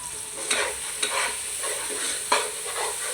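Biryani masala with green chilies stir-fried in oil, a steady close sizzle with a few distinct scraping stirs of the spoon in the pan.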